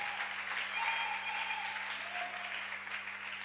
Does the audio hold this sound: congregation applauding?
yes